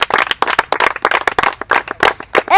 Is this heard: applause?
yes